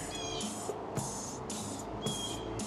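A handheld spray bottle mists a liquid water-spot cleaner onto a dry surface in several quick, evenly spaced hissing bursts, close and fairly quiet, with no talk.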